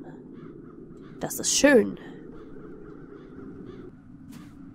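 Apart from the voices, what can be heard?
crows cawing in the background, video game Satinavs Ketten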